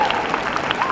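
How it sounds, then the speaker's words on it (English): Crowd applause for a Frisbee dog champion at a dog show during the Calgary Stampede, a steady wash of clapping lasting about a second with a faint voice threading through. "How about the applause for our Frisbee champion?"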